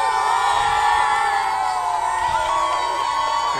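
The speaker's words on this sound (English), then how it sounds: "we do have a great crowd or a great student section" A high school student section cheers throughout a varsity football game between Eastern Hancock and South Putnam, a dense steady roar of shouting and whooping voices that stays loud from start to finish.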